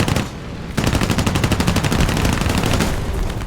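In the War Thunder video game, P-40 aircraft machine guns fire a loud, rapid, continuous burst that starts after a brief pause and keeps a steady rattling rhythm for about three seconds, close and alone without talk.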